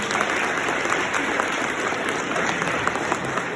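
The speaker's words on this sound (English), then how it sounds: "Let's give a round of applause to Cassie Hyman." Dense, steady applause from a crowd at a charity 5k race, Race for the Cure, continuous and fairly loud throughout with scattered claps standing out.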